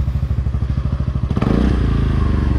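Honda Forza 300 scooter idling with its exhaust freshly repacked with fiberglass, a steady low, soft putter of close, even pulses that swells into a smoother, fuller rev toward the end, with no talking.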